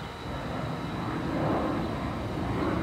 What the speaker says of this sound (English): Southwest Airlines flight 4949, BBD. Providence, Rhode Island. TF Green Airport.